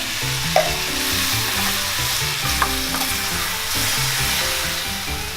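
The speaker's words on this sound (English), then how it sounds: "Give this a quick saute." Fire-roasted diced tomatoes sautéing with vegetables in a soup pot, a continuous close sizzle with a few sharp clinks of a utensil, no talk over it.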